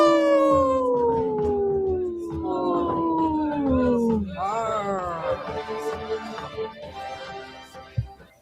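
A person imitates a wolf with a long sliding vocal howl, then a second rising and falling howl. Other voices seem to join toward the end over a busy background, and the sound is near and fairly loud.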